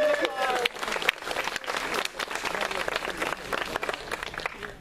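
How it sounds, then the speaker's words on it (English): An audience at a historic house tour applauds, a dense burst of many hands clapping that holds steady throughout with some voices mixed in. "Tim and Vanessa, you can give a round of applause."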